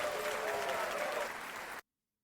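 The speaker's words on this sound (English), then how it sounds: "Round of applause for that." An audience claps steadily for under two seconds, then the sound cuts off abruptly to silence.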